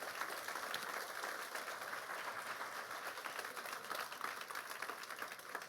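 A church congregation claps together during a Spanish-language sermon, a steady dense wash of applause filling the whole stretch without a break, with no talking over it.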